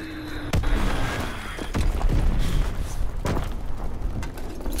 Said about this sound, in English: Enemy bomb in.